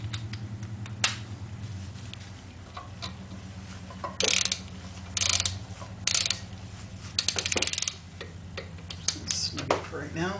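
A torque wrench tightening bolts on a BMW K75 motorcycle final drive, giving bursts of rapid ratchet clicks against a low steady hum.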